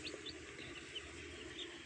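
Chicks and a hen at a farm, faint high cheeping and chirps scattered over a quiet, distant background, no voices.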